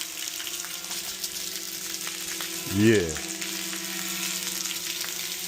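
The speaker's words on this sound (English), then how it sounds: "You see water flowing here, flowing there, flowing there." Water rushing and hissing out of a pressure washer being winterized with air pressure, a steady nearby flow with a single brief spoken word partway through.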